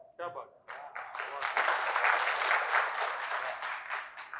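Audience applause after a Gujarati poetry recital, rising after a brief spoken phrase into a sustained wash of clapping that carries on to the end.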